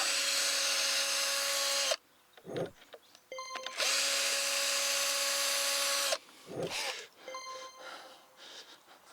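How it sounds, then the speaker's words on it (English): A power drill drives screws into the wood of a garden raised bed, giving two long steady whines of about two and four seconds. Short clicks, trigger taps and quiet rustling fall between the runs, and nobody speaks. "I'm just going to put these screws in"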